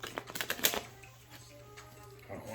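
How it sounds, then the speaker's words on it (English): Tarot cards are shuffled briskly at close range in a quick run of papery riffles, which then fade into a quiet room tone. "We're gonna do two shuffles because I don't want to be biased"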